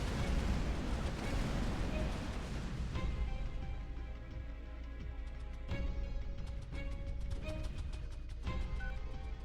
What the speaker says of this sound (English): We still have a little bit of Gauss cannon ammunition.